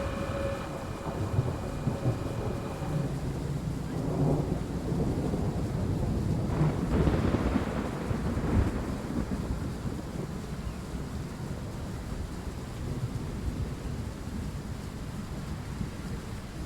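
Heavy rain and a thunderstorm roll over a regional train in Train Sim World 6, with a rumbling thunder swell in the middle above a constant windy, rushing backdrop.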